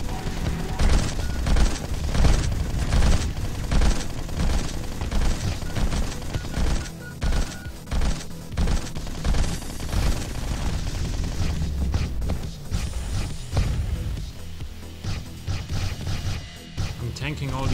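Enemy gunfire in the twin-stick shooter game Neuro Voider, a dense, continuous barrage of rapid shots, crashes and impacts with game music, with a player talking over it.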